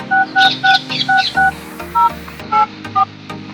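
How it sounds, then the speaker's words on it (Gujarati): A phone keypad is dialed to call the police, giving a quick series of close, loud touch-tone beeps in uneven bursts, about eight tones with short pauses between them. "હું ફોન કરું પોલીસને"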